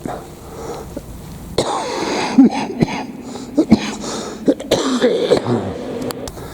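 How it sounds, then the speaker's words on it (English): Several sharp, rough coughs in quick bursts, close to the microphone, scattered over a few seconds with some background noise between them. "So y'all have to excuse the coughing on my rough voice."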